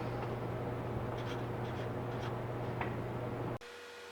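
A pen or pencil scratches faintly on a data sheet in a few short strokes over a steady background hum, which cuts out abruptly near the end, no talk.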